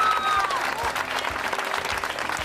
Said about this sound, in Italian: dedicherei l'ultimo applauso ad Anna Simbula Marras,